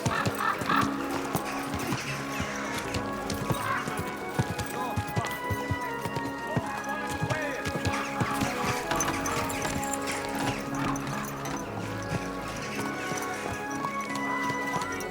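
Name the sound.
horse hooves clip-clopping, from a video game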